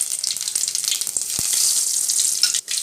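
Cumin seeds sizzle and crackle in hot oil in a pan while tempering for a Tamil mor kuzhambu, a dense, close, continuous frying hiss with a few sharper pops and a brief dip near the end.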